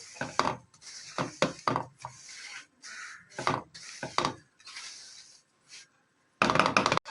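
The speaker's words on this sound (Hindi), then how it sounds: "अच्छे से मैंने मिल्क पाउडर को सूजी के अंदर मिक्स अप कर लिया।" A spoon mixes milk powder into semolina in a bowl, making repeated close scraping and rubbing strokes in uneven bursts with short pauses, ending in a brisk final flurry.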